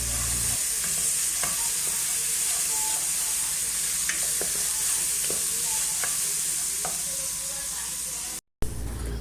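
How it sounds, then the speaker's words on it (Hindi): Onion and ginger garlic paste sauté in a hot pan, a steady close sizzle and frying hiss with occasional scrapes and taps of a spoon stirring, running continuously with no talking. "मैंने उसमें जिंजर गार्लिक का पेस्ट डाल दिया और उसे भी अच्छी तरीके से मैंने भूना"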